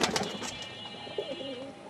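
Pet pigeons cooing softly in a short burst, low rolling coos rising and falling over steady background hiss, fairly close but quiet, with no talk.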